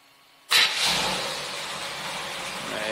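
A car engine starting sound played from a KITT mobile app: a sudden burst after half a second of quiet, then a steady rumbling idle that holds to the end, heard alone without talk.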